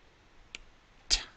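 Two faint, sharp clicks from calculator buttons being pressed, a soft one followed about half a second later by a slightly louder one, in an otherwise quiet room.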